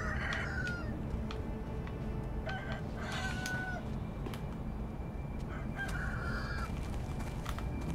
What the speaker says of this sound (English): Chicken waking everyone up